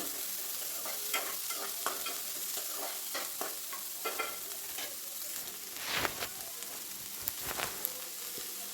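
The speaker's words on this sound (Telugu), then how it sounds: "కట్ చేసుకున్న ఆనియన్స్ కూడా వేసేసానండి నీట్గా కలిపేసుకోండి" Sliced onions stirred into a hot oiled pan with mustard seeds and urad dal for an egg curry, giving a steady close sizzle broken by repeated scraping spoon strokes, with a few louder clatters near the end.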